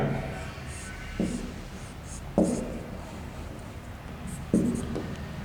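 Chalk or marker writing on a board during a chemistry lesson: three distinct scratchy strokes about a second apart, each starting with a sharp tap and trailing off, alone and close.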